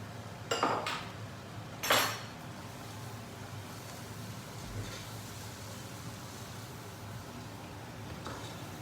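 A spoon stirs browned meat for carbonnade flamande in a cooking pot: two sharp clanks of utensil against the pot near the start, then a soft, steady scraping and shuffling at low level, with one more faint knock near the end.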